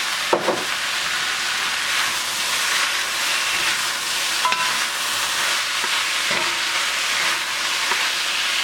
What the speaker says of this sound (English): And we're going to let this just cook down